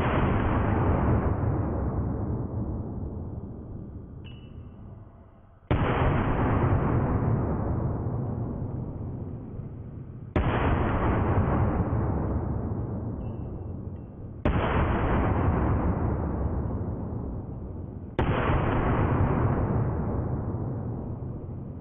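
Five heavy gunshots fired one after another at roughly four-second intervals, each a loud sharp blast followed by a long, fading boom on an outdoor ranch.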